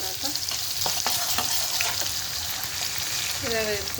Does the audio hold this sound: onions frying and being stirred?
yes